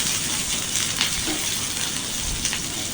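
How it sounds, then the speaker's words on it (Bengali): Chopped onion fries in mustard oil in a pan, giving a close, steady sizzle with a soft crackle and occasional stirring. "তেলের মধ্যে এখন দিয়ে দিচ্ছি পেঁয়াজ কুচি"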